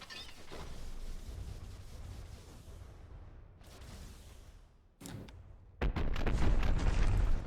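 Fused frag cram cannons firing in From the Depths, with a heavy boom that rumbles away, a sharp second blast near five seconds, and a loud sustained burst of fire at the end.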